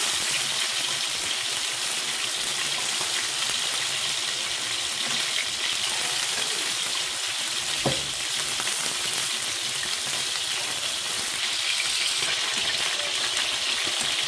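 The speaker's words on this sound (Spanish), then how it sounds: "Yo la cebolla la partí en pedazos así para que sea más rápido de asar y más fácil." Onion pieces roasting and sizzling in a hot pan, a constant bright frying hiss with faint crackles and one brief louder knock midway, steady throughout with no voices.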